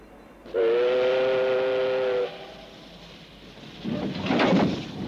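A steam train whistle sounds loud and steady for about two seconds as the train departs, followed by rumbling noise of the train getting underway.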